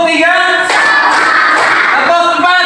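Classroom clapping in a teacher-led counting clap pattern, a burst of quick sharp claps from a group of students, loud and close, with voices around it.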